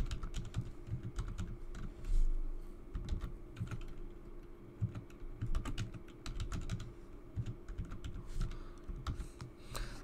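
Fingers typing a password on a computer keyboard, a steady run of close, crisp key clicks in quick irregular bursts with no talking.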